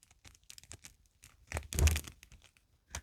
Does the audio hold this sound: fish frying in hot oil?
no